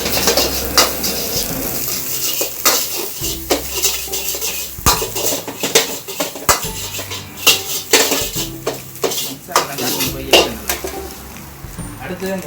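Chopped onion and carrot being stirred in a pan for fried puttu, with a spoon repeatedly clinking and scraping against the metal in an irregular rhythm, close and fairly loud, a light sizzle underneath and some voices at times.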